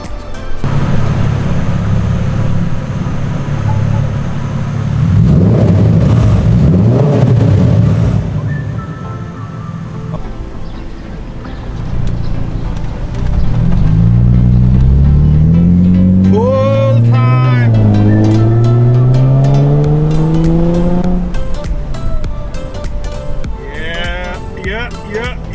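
A loud exhaust on a 15-year-old car rumbles and revs, with the engine note rising and falling in several sweeping pulls over a steady idle, alongside brief background speech.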